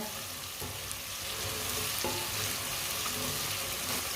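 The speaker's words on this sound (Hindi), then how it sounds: "लहसुन को भी 1-2 मिनट के लिए पका लेंगे, लहसुन का भी कच्चापन ख़त्म हो जाएगा" Garlic cooks in a hot pan in a steady, dense sizzle, with occasional scraping stirs over a continuous close crackle of frying oil.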